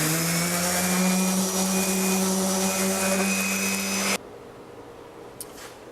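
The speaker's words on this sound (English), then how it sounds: "So I'm going to sand these down" A power sander whines loudly and steadily on wooden bookcase shelves, then cuts off abruptly, leaving near silence and a faint click, with no talking.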